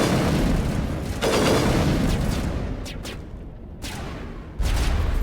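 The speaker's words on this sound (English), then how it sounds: "Yeah, shooting it." Gunfire and heavy booming blasts in the Mass Effect Legendary Edition video game, a loud, continuous barrage with dense bursts, brief lulls and a renewed heavy impact near the end.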